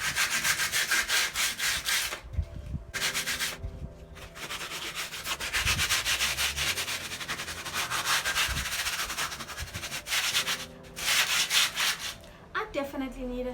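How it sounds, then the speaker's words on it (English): Wood being sanded by hand with sandpaper: steady back-and-forth rubbing strokes, close and fairly loud, broken by a few short pauses. "I'm just sanding this down so that it feels smooth"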